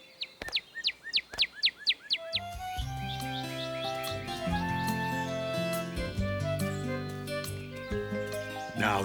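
A cartoon bird chirps in a rapid series of bright, high tweets, about eight quick calls in a row, then gives way to a cheerful musical score.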